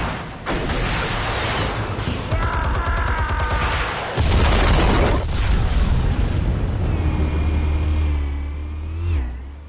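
Explosives detonate in a loud, sustained series of booms and blasts under a dense, roaring rumble, with a heavy low-end surge midway and a fading tail near the end.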